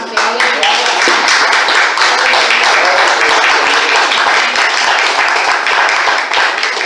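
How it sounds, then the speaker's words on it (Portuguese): A church congregation breaks into sustained applause, dense and loud for several seconds, with voices mixed into the clapping. "Essa palavra merece que a gente aplaude ao Senhor, amém?"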